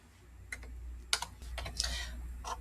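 A few distinct keyboard keystrokes tap out close and clear, irregular single clicks and a short cluster, over low room hum.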